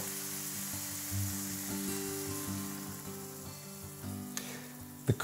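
Sausage mixture with rosemary sizzling in a pan as it is stirred for a rigatoni sauce, a steady close frying crackle with a sharp clatter near the end.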